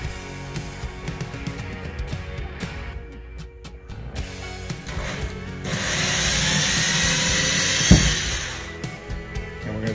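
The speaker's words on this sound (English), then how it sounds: "Now we're going to take our drill." A drill whines steadily for a few seconds amid clunky handling noises and a sharp knock, fairly close.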